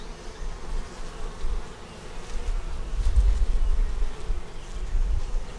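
Honey bees buzzing over a brood frame of eggs, larvae and capped brood in a nursery hive split, a dense, close, continuous hum that swells slightly midway, with no talking.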